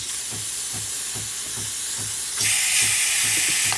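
Breville Barista Pro espresso machine steam wand purging, a steady loud hiss with a rhythmic low pulsing underneath that swells into a stronger rush of steam near the end.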